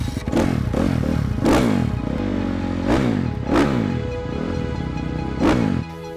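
A motocross motorcycle revs hard and close, its engine rising and falling in repeated sharp bursts with a rough, buzzing pitch and rattling clatter.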